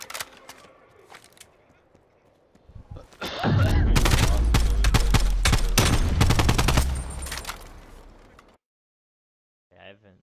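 A loud, dense volley of rapid gunfire erupts during a 1v1 video game match, lasts about five seconds, then fades out. Casual talk runs around it, with quieter game sounds before it.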